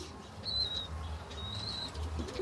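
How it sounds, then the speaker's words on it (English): Sky cutter pigeons on a farm flap their wings and give a few short, thin calls, heard faintly at a moderate distance over a steady low background hum. "We got a lot of pigeons here. So the breed is sky cutters."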